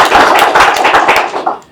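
Applause from the audience at a live panel on euthanasia, a short burst of clapping with irregular sharp claps that swells and then thins out over under two seconds.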